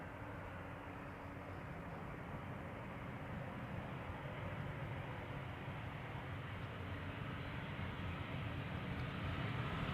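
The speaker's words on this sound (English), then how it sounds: "This is KLM flight 1850, which is arriving from Munich." A KLM airliner arriving from Munich rumbles in the distance, a steady broadband jet roar that swells slightly over ten seconds.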